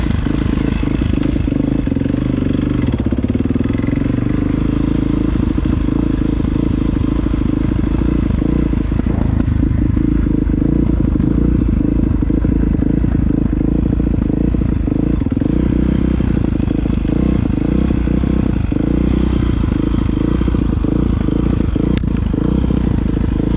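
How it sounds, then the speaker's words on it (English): A dirt bike engine runs steadily and loud throughout, a dense low rumble with rising revs and some clatter, close by and with no talk over it. "Haven't started this bike up since second week of May"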